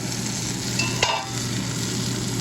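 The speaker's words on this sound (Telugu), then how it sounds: "చూడండి, ఫ్రై అవుతుంది" Okra fries in oil in a pan with a constant dense sizzle and a low steady hum, broken by one short scrape of a utensil.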